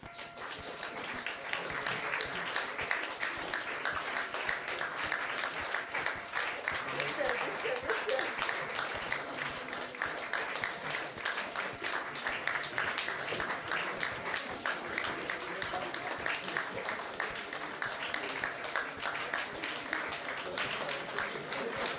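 An audience at a PechaKucha Night in Olomouc applauds the presenters, steady sustained clapping from a crowd filling the whole stretch, with some talking mixed in.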